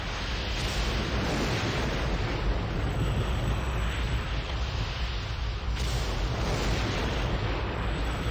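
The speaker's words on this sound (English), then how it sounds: "The antimatter bomb detonates inside the candy box" A loud, sustained roaring blast from an antimatter bomb going off inside a candy box in the retro PC game Mission Critical, a dense rumbling explosion that holds steady for several seconds with a brief dip partway through.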